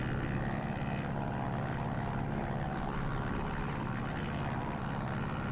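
Christen Eagle propeller aircraft engine at full power in the DCS flight simulator: a loud, steady, unbroken drone with no voices.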